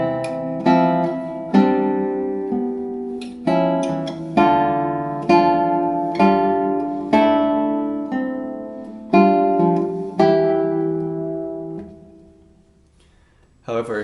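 Classical guitar plays a Sor etude from Opus 6 in 3/4, with a slightly stressed first beat and even following beats, rolling arpeggiated notes in a steady pulse, clear and close, with no speech before it fades into silence.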